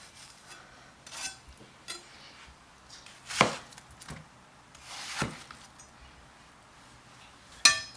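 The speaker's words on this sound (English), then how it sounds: "The rest of the melon, I just like to go through it with my knife." A knife cuts through watermelon on a cutting board, making a handful of sharp, quiet knocks and clicks spaced irregularly over a hushed background.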